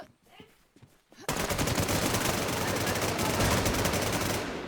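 Sustained automatic gunfire in the shooter game Infestation erupts after a second of quieter sounds and a voice, then rattles on loud and continuous as a rapid, steady stream of shots.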